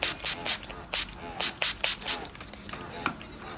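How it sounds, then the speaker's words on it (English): Eight or nine quick, crisp spray bursts of mist onto a makeup puff in a steady rhythm, close up, followed by softer rustling. "I'll spray a little puff."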